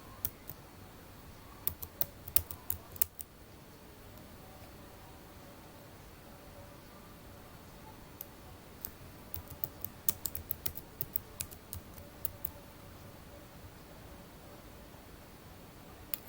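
Typing on a computer keyboard during a Google search, bursts of crisp key clicks in clusters with pauses between, close and fairly quiet over a faint hiss.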